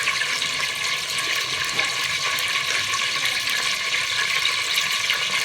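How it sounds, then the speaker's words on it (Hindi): Ginger garlic paste sizzling in hot ghee for Lahori chana, a dense, loud, steady hiss that runs unbroken from start to finish. "घी हमारा गर्म हो चुका है, तो इसके अंदर हम अदरक लहसुन का पेस्ट ऐड करते हैं।"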